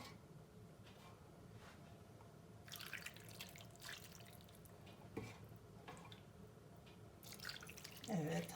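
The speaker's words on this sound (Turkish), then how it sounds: "Şimdi üzerine etin suyundan ekliyorum." Meat broth is poured over meat laid on an oven tray for an eggplant dish, giving faint, soft splashing and dripping in short bursts against a quiet kitchen background.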